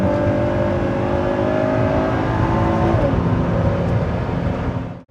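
A sports car engine in sport mode roars as it accelerates, pitch climbing through a gear change, loud and close, then cutting off abruptly at the end.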